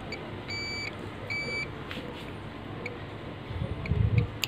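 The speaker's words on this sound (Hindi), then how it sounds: "दोनों साइड में बीप साउंड मारा गया" A multimeter in continuity mode beeps in two short, steady tones while probing a Sony Vaio laptop motherboard for a shorted capacitor, heard over low workshop hum with a brief thump near the end.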